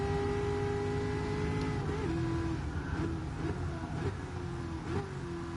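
A Chevrolet road car's engine from the Gran Turismo Sport racing game drones steadily at moderate loudness, with small shifts in pitch as the revs change and no voices over it.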